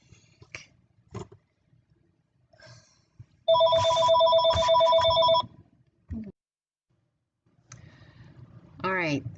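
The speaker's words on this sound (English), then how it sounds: "my telephone rang" A telephone rings in a dental office, a loud, close electronic trill lasting about two seconds, with someone speaking softly before and after it.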